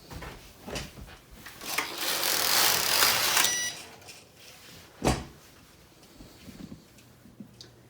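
A Passap E6000 knitting machine carriage is pushed to the left in one loud, rattling sweep lasting about two seconds, followed by a sharp clack and a few quieter knocks.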